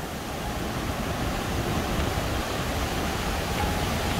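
The Schüss river rushes through the narrow Taubenlochschlucht gorge, running very high after heavy rain: a steady, loud, unbroken roar of water filling the whole stretch with no voices.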